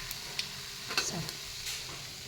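Small fish crisp up in a frying pan with a soft, steady sizzle, faint and close, with a few light ticks and clinks; no speech.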